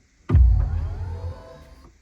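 A BMW i5 electric sedan sounds a short synthetic start-up swell when its start-stop button is pressed, a sudden low whoosh that rises and then fades over about two seconds.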